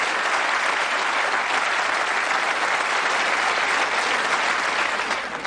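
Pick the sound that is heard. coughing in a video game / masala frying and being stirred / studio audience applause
studio audience applause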